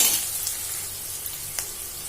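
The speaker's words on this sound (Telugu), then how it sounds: "ఇప్పుడు దీన్ని ఫ్రై చేస్తున్నాను చూడండి." Vegetables frying in a pan during Telugu home cooking, a continuous close sizzle with soft crackling and a few brief sharper pops as they cook.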